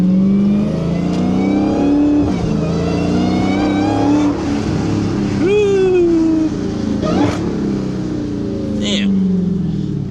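A Dodge Charger Hellcat engine, with its supercharger whine, revs and pulls hard while driving in Germany, loud and continuous with pitch sweeping up and down through gear changes. It sounds from inside the car.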